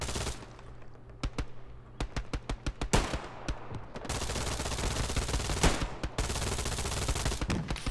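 Battlefield gunfire in the World War II shooter Hell Let Loose, with a rapid string of sharp single shots giving way to sustained machine-gun bursts and heavy booms, dense and loud throughout.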